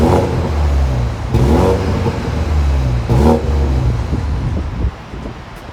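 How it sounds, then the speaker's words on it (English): BMW Z4 M Sport 2-litre engine revving in sport mode, with a couple of sharp, loud throttle blips rising over a steady idle rumble, close to the car with no talking. "if I pop it into sport mode, that sounds so good"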